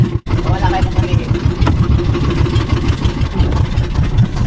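A boat or vehicle engine idles with a steady, loud, low rumble that runs on continuously without letting up.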